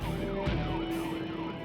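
A police car siren wails during a chase, rising and falling in a repeating cycle over a steady road rumble.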